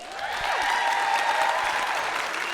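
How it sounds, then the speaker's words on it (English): A live comedy show audience at the Reser breaks into applause, a steady, even roar of clapping with little talk. "I was fishing for applause"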